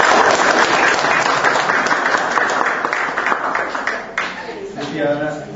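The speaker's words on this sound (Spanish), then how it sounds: "recibamos a nuestro conferencista de hoy con un majestuoso aplauso" Audience applause welcoming a lecturer at a spiritist center, a loud, dense wash of clapping from a crowd that thins toward the end as a voice begins speaking.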